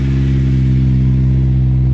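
A loud, steady engine drone from a Honda S2000 AP2 with a 2.2-litre engine and Spoon exhaust, held at high revs, close and continuous, with no talk.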